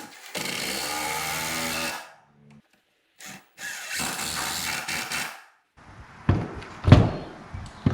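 A power driver sinks 2-inch screws into wooden blocks while a secret door is built, giving a loud sustained whir, a short second burst, then several clunky knocks as parts shift, heard up close without talk.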